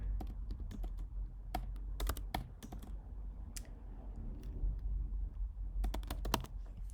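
Keys clatter on a computer keyboard as a name is typed in, a steady run of close, crisp taps in short bursts with pauses between, over a faint room hum.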